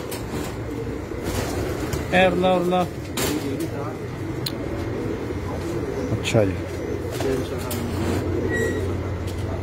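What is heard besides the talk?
Salara pigeon cooing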